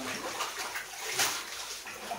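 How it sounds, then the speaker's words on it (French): Water pours and splashes steadily into a fish-breeding tank at a Cameroon aquaculture site, a close, continuous rushing with slight sloshing. "Là, donc, je mets l'eau."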